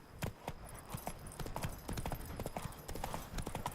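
Horse hooves trotting on a road in The Witcher 3, a quick steady clip-clop rhythm, close and fairly quiet, with no talking.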